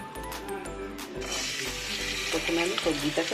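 Vegetables frying in a wok for Chinese fried rice, a rising hiss of sizzling with metallic clinks and scrapes early on, close and fairly loud.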